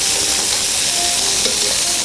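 Browned sausage sizzling in a pan over a flame for spaghetti sauce: a dense, loud, continuous sizzle and crackle, close up, with no talking.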